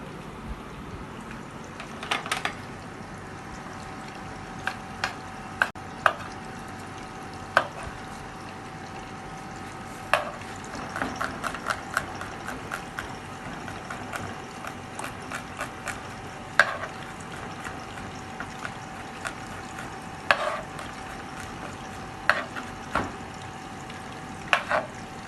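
Chicken pieces for Schezwan chicken frying in a pan: a continuous soft sizzle broken by frequent sharp clicks and scrapes of stirring.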